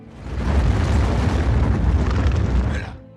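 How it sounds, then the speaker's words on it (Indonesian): A massive, roaring explosion destroys buildings in a snowy WWII battle, swelling into a long rumbling blast with crumbling debris, loud and continuous before fading out at the end. "ditandai dengan suara ledakan yang menghancurkan beberapa gedung di sana"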